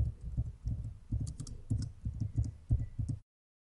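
Rapid computer mouse and keyboard clicks while editing a form in business software, a steady run of close, soft taps with brief pauses, ending abruptly.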